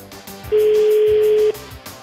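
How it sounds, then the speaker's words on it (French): One long telephone ringing tone plays while a French call is being placed, a steady buzz lasting about a second with quiet gaps before and after and no talk. "Ça sonne."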